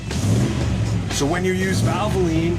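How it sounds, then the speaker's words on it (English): A car engine revs in a Valvoline motor oil advert, rising and falling in pitch beneath a narrator's voice. "your engine will always sound like this."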